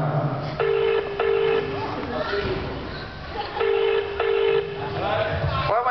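A telephone ringing with no one picking up, two repeated bursts of double-pulsed electronic ring tones sounding loud and clear beneath a crowd's chatter and a person talking.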